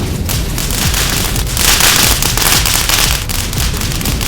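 Fireworks packed into the cargo hold of a Lego plane go off in a loud, dense run of crackling bursts and pops that swells near the middle and keeps sputtering throughout.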